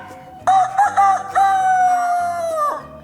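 A person imitates a rooster crowing, loud and close, with a few choppy clucking notes before a long drawn-out cock-a-doodle-doo that trails off.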